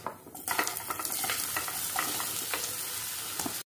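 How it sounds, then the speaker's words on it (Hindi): Taro root pieces hit hot oil with toasted ajwain and burst into a loud, busy sizzle, with repeated scraping and clinking stirs of a spatula against the pan. "अच्छे से हम फ्राई कर लेंगे अजवाइन और तेल के साथ में करीबन 2 मिनट तक मिलाते हुए"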